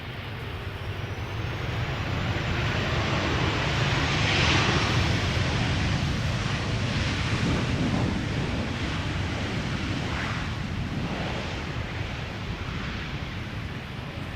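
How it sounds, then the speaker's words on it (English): A 24-year-old KLM Boeing 737-800 arriving at Amsterdam Schiphol, a loud sustained jet roar with rushing broadband noise that swells past mid-clip and slowly recedes, heard alone. "KLM 737-800, flight 1918, arriving from Zurich."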